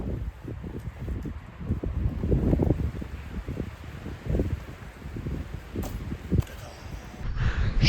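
Strong gusty wind buffets a GoPro microphone outdoors, giving irregular low rumbling thumps and bursts that come and go with no voices.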